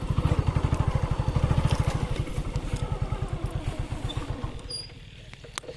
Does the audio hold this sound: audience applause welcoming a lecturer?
no